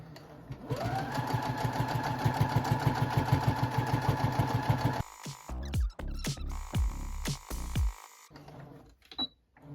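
A sewing machine stitches corner to corner across a rag quilt with back-stitching, a rapid, even mechanical whirr for about four seconds that stops abruptly, followed by close clicks and handling clatter.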